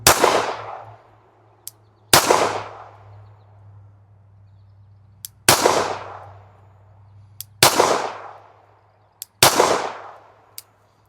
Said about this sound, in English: I'm going to shoot a group of 5.